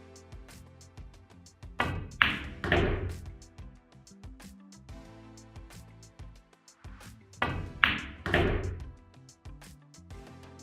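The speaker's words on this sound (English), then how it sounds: "And the 9-ball with a stop shot." A cue strikes balls during a 9-ball pool game, giving sharp clicks and knocks in a few separate clusters, with brief clacks of ball against ball at close range.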